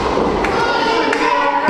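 Heavy thuds from a pro wrestling match, with a couple of sharp slaps and impacts landing over a loud arena crowd roar in a short burst.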